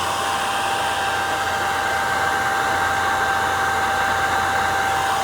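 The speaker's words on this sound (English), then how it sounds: "And then I turn on the blow dryer to" A blow dryer heats a four-pin coolant temperature sensor from a Mercedes W124, giving a loud, steady airy whir with a constant tonal whine that holds unchanged throughout.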